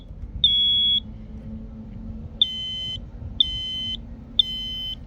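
Homemade portable multi-use trainer's annunciator giving four steady high electronic beep tones, the first and last two roughly a second or half-second long, loud and alone over a low hum.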